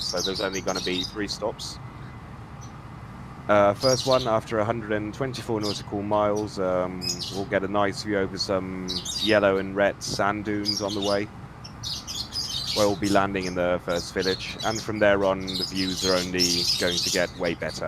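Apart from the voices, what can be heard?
pet birds chirping and screaming in the room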